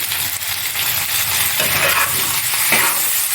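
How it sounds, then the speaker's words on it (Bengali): Ground spices, including coriander, Kashmiri chili, turmeric and cumin, are stirred with fried cucumber and potato in a hot pan. A continuous close sizzle runs throughout with occasional spoon scrapes. "ভালো করে কষিয়ে নেব।"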